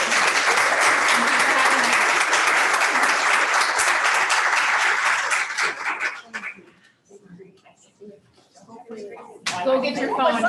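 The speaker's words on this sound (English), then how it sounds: "Let's have a round of applause." Audience applause at a forum event on leadership: dense, loud clapping fills about six seconds, then breaks off into quieter scattered voices and brief talk, with the room noise swelling again at the end.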